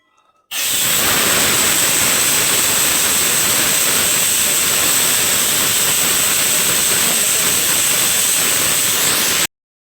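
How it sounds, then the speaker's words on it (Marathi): A kitchen pressure cooker cooking egg biryani lets off its whistle: a loud, steady rush of escaping steam with a high shrill tone, starting abruptly and holding for about nine seconds before cutting off. "कुकरला झाकण लावून त्याच्या 2 शिट्ट्या करून घेत्या"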